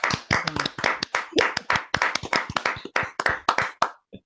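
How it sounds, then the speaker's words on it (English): Sharp, close claps in a quick, uneven rhythm form a short round of applause for Ben from a few people, ending abruptly. "can we give Ben a round of applause through audio?"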